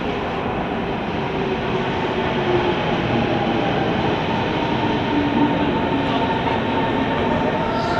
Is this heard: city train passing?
yes